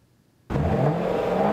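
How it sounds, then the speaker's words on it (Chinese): A sports car engine fires up after a moment of near silence, a key start into a deep, steady, loud idle that holds close by, at a classic and modern sports car show. "引擎声顿时吸引全场目光"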